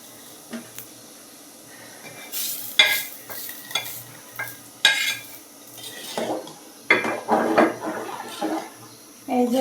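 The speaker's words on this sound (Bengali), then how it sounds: "এটার মধ্যে যদি ডাল ঢেলে দেই একবারে ফ্যাস করে ওঠে" Lentils (dal) poured into hot oil in a kadai for tempering, giving a few loud hissing sizzle bursts amid clinking of a metal spoon and pan, close by.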